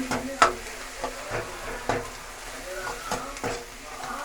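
Ridge gourd and cauliflower vegetable masala with tomatoes, turmeric, salt and ajwain bubbles in a pot, with a soft simmer underneath and a handful of separate spoon clinks and scrapes as it is stirred, close by.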